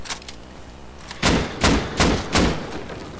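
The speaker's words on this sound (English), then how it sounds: "Here's the rock launcher." Rock launcher fires in the survival game Rust during a base raid: three heavy, evenly spaced thumping blasts ring out after a quieter stretch, each punchy and close with a brief decay.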